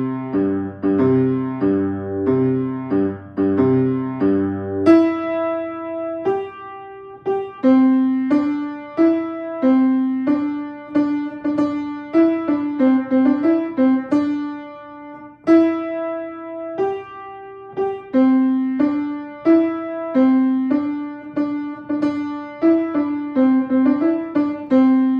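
A piano plays a simple melody in clear single notes with a steady rhythm, later joined by lower notes, close and moderately loud with no talking.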